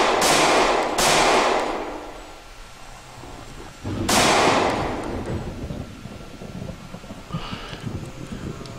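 Gunfire in Project Zomboid: a few sharp, loud shots with long decaying tails, two in quick succession near the start and another about four seconds later, over rough windy background noise.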